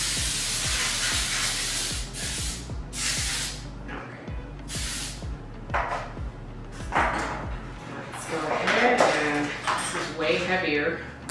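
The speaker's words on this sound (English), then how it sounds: "I'm gonna do the same thing and spray this pan" Several short bursts of aerosol cooking spray hiss against a baking pan for carrot cake, with light clinks of metal and people talking in the background.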